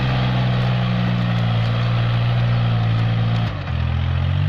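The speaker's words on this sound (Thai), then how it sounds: "เจอเนินๆ อย่างนี้เสียงเครื่องนี่ยังไหวนะฮะ" A steady low engine drone of a tractor labouring, loud and close, with a brief dip in pitch as the load shifts.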